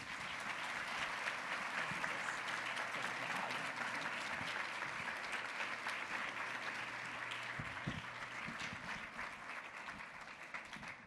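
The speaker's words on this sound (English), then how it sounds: "let's give Bobby and Louise a round of applause." An audience at the Shift Ed Accelerating Impact lunch gives Bobby and Louise steady, dense clapping for about eleven seconds over a faint low hum.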